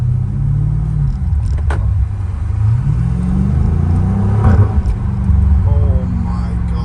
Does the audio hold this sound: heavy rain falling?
no